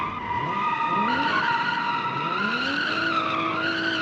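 Simulated car in BeamNG sliding sideways in a drift, a continuous loud tire squeal with wavering pitch and engine revving underneath, steady and close throughout.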